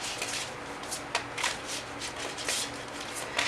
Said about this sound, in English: bear with me as I shuffle